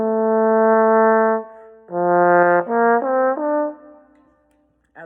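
Solo trombone plays the smooth opening of a lyrical étude, a long held note followed by a connected phrase of shorter notes, clear and close with no accompaniment.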